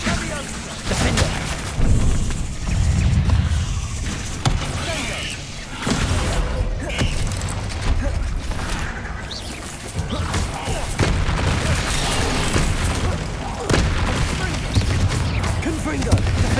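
Spell blasts in Hogwarts Legacy go off in rapid bursts of booming explosions, crashes and thuds that keep coming throughout, with a voice speaking over the action.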